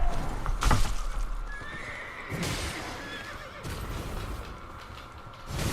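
A horse whinnies in the video game Elden Ring, a loud neigh near the start with hoof clip-clops, then gentler rising calls over a rough ambient game backdrop.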